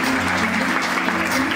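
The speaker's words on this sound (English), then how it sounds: "round of applause for my mentor, Tonya." An audience claps steadily for a speaker at a large event. The applause is dense and fairly close, and it holds even through the whole short stretch.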